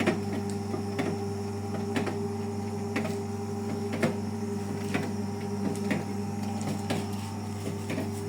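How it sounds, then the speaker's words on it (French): A new Brandt washing machine in its spin cycle: a steady loud motor hum with regular ticking knocks about once a second, continuous and close throughout. "Essorage."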